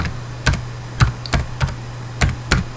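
Keystrokes on a computer keyboard while a spreadsheet formula is typed, six crisp separate clicks in an uneven rhythm over a steady low hum, close and fairly loud with no talking.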